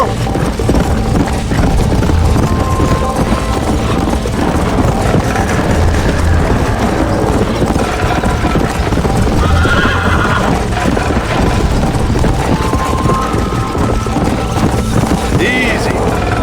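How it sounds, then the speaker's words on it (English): A horse gallops with steady hoofbeats and whinnies loudly in Red Dead Redemption, the rushing movement continuous throughout with wind noise underneath. "I think you chose the wrong horse, Miss McFarland."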